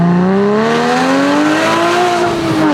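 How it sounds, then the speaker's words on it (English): A 2016 Porsche Boxster Spyder with an aftermarket exhaust revs loud and close, its engine note climbing steadily in a sustained, rising howl for a few seconds with no voices over it. "So this car has an aftermarket exhaust."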